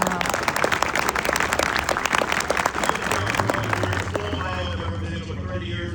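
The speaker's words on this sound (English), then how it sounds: "please round of applause" Audience applause at a Marine Corps recruit graduation ceremony at Parris Island, a loud sustained crowd clapping that fades toward the end while a voice begins speaking over it.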